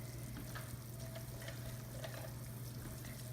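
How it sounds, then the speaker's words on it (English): Flour cooks in sausage grease for gravy in a pan, giving a close, steady sizzle and frying crackle with faint stirring scrapes and no talking. "And we're going to kind of cook that flour."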